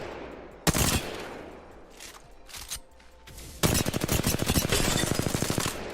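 Rapid automatic gunfire from a weapon fired at practice targets in the Apex Legends video game: a short burst, a pause with scattered shots, then a long sustained stream of loud, evenly spaced rounds.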